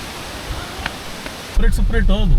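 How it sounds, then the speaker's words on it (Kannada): A waterfall below roars with a steady broadband rush that sounds fairly distant and fills the background, and partway through a voice starts talking over it. "ಈಗ ಕೆಳಗೆ ಫಾಲ್ಸ್ ಐತಿ"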